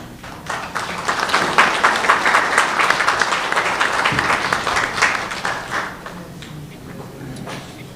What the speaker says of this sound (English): Another round of applause for our Webelos of Southington Pack